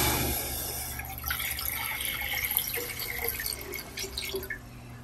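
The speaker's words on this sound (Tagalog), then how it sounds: "maglalagay tayo ng 1 litro ng tubig sa ating kaserola" One litre of water pours steadily into a cooking pot (kaserola) while Filipino tokwa't baboy is prepared, a continuous splashing, trickling flow heard close and alone throughout.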